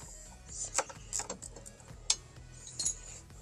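A wrench works bolts loose on a Honda F4i motorcycle, giving close, light metallic clicks, ratcheting ticks and small clinks in an irregular rhythm.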